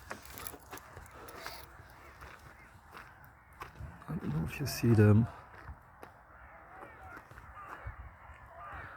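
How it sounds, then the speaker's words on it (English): Crows cawing outdoors: a short, loud burst of harsh caws near the middle, with fainter calls and footsteps around it while someone talks nearby. "Oh shit, the crows"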